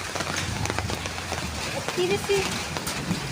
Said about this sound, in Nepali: आज त यहाँ पानी पर्यो